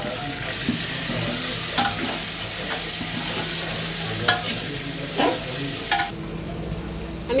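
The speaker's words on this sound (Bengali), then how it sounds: "আলু আর পেঁয়াজটা আমার ভাজা হয়ে গেছে, এখন আমি আদা রসুন পেস্ট দেবো।" Ginger garlic paste fries with potatoes and onions for chicken biryani, a steady close sizzle broken by sharp scraping stirs of a spoon against the pan.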